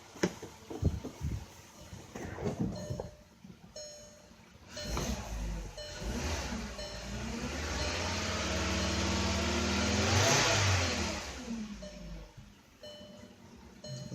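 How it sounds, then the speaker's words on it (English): A 2012 VW Jetta engine revs up when given gas, rising into a sustained, swelling drone that peaks and then falls back toward idle after several clicks and knocks. "Let's see if we give it gas, see what happens."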